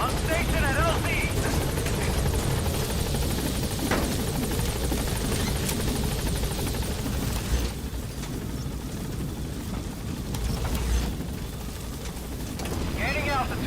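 B-Quad, a helicopter in Metal Gear Solid V, hovers at a landing zone with a loud, continuous rotor roar and engine whine that eases slightly midway, close and dominant throughout.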